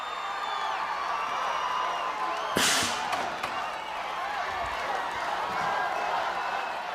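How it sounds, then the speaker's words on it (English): Studio crowd at American Gladiators cheering a female contestant, a steady roar of cheers and whoops with a sharp slam-like burst in the middle and a commentator talking over it. "Crowd rooting her on."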